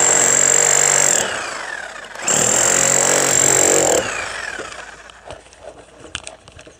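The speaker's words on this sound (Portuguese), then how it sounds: "Vou tentar ver se eu consigo pôr ele bater um pouco aqui para vocês verem." A Bosch rotary hammer drill runs loudly in two long bursts with a brief pause between, drilling into a concrete joist, then winds down, leaving faint clatter and scraping.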